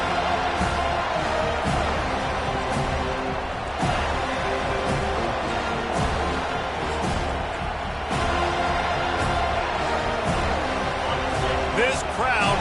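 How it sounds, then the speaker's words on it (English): The stadium crowd at a Clemson vs FSU college football game keeps up a sustained, loud roar of cheering, with commentators talking over the dense noise and sharp thuds at intervals. "This crowd bringing an ear-splitting welcome to their visitors."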